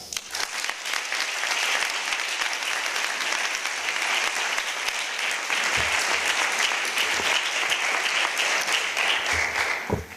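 Sustained audience applause fills a hall at a high-level UN trade and development conference in Geneva, dense and steady throughout with no talk over it.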